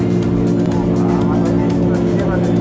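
A D1 Grand Prix drift car sits at Autopolis revving hard to warm its tires after a burnout, a loud continuous engine drone with pulsing revs, close by, while someone talks over it.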